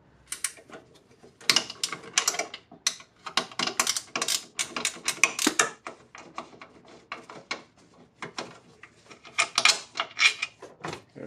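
A ratchet loosening the bolts on a module during cylinder head removal on a 2008 Acura MDX engine: close, repeated bursts of fast metallic clicking separated by short pauses.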